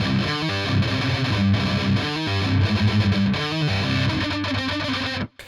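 A loud, distorted electric guitar riff from a song plays alone in a dense, driving chugging rhythm with repeated accented stabs, then cuts off abruptly just before the end.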